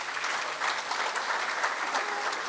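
An audience at a community event claps for the volunteers and organizers in a dense, even burst that holds at a steady level throughout.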